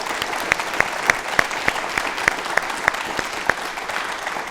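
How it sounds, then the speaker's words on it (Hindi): An audience claps steadily for a few seconds at a televised yoga discussion, with a dense, even patter of hands and a few louder individual claps standing out. "पहले तो इसके लिए एक बार जोरदार दिल से ताली बजा दीजिए।"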